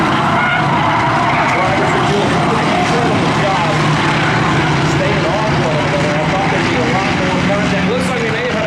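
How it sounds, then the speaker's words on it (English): Stacker race cars roar continuously around an oval track during a race, with a skid and tire noise as a car slides into the back-straightaway wall, the engine din loud and steady while an announcer talks over it. "Looks like we may have had a car in the wall there back straightaway."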